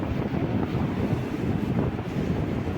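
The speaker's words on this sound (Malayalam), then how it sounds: "നല്ല തണുത്ത കാറ്റ് എനിക്ക് ഫീൽ ചെയ്യുന്നുണ്ട് ഞാൻ ഈ സൈഡിൽ നിൽക്കുമ്പോൾ" Steady rushing wind buffets the microphone beside the open side of a moving passenger train running from Thiruvananthapuram to Kollam, a constant low roar with no pauses and no voices.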